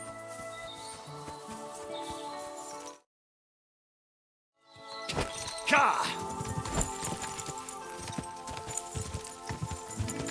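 Video game horse hooves clip-clop in a steady walking rhythm, broken by a brief silent gap, with game music and ambience under them.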